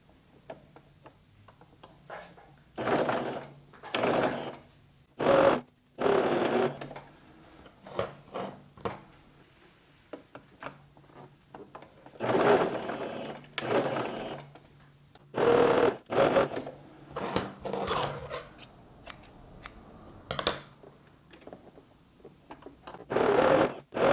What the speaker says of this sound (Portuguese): eu vou passar agora essa pezinho de máquina nessa lateral e nessa outra